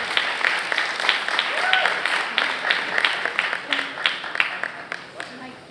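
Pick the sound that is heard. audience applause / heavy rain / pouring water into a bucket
audience applause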